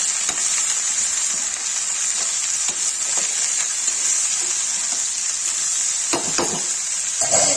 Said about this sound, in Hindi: अब इसे नमक डाल के इसे चला के ढक देंगे।